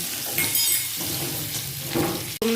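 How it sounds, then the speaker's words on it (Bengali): Potatoes sizzle and crackle in a hot wok while being stirred with salt, with a brief metallic clink of utensil near the end. "একটু নুন দিয়ে ভালো করে ভাজা মতন করা হচ্ছে"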